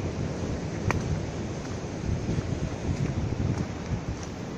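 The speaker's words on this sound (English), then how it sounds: "You can hear the tides here at Catawash." Ocean surf and tide rolling in at Soup Bowl, St. Joseph, Barbados: a steady, broadband wash of waves with wind noise on the microphone, fairly loud and continuous, without any talking.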